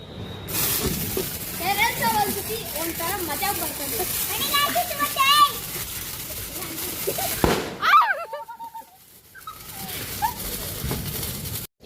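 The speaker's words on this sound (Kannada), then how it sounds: "ಪಟಾಕಿ ಹಚ್ತಾ ಇದ್ದಾರೆ ಎಲ್ಲ ನಮ್ಮ ಕಸಿನ್ಸು" Diwali firecrackers pop and crackle on a terrace over lively voices and children's chatter, with a sharp louder burst near the end amid outdoor festive noise.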